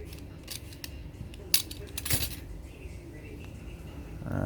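A radio power cord having its insulation peeled off by hand. Small close snips and scrapes come in a few brief bursts against a low background hum, with one sharper click partway through.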